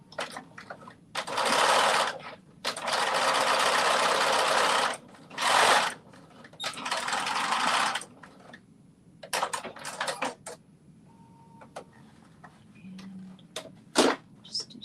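Sewing machine stitching a 5/8-inch seam allowance on a garment, running in several loud bursts of rapid needle rattle separated by pauses, with quieter clicks and handling sounds near the end.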